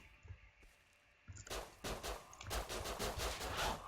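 Gunfire in the survival game Rust: after a quiet, muffled stretch, a rapid burst of automatic shots erupts and keeps going, loud and close, with several overlapping volleys.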